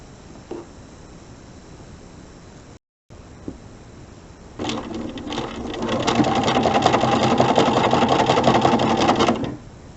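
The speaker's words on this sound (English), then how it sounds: "I will just continue sewing these until I have them all put together into" An electric sewing machine stitches pieced fabric quilt blocks into pairs, starting with a faint hum and then running in a steady, loud, continuous whir for several seconds before stopping.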